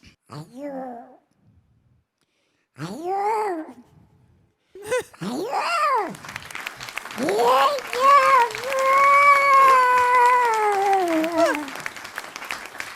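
A performer on a comedy stage uses his voice to imitate a cat giving birth. He makes a series of drawn-out, wailing meows that start short and spaced, then run into longer, strained cries, with faint audience applause.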